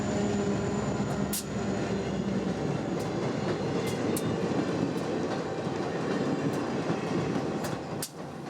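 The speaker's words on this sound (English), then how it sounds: "But first, there's westbound Amtrak number 5 to wait for." Westbound Amtrak number 5 passes on Union Pacific's Moffat Line, a loud, close rumble of rolling cars with a rhythmic clickety-clack of wheels over rail joints and brief squeals.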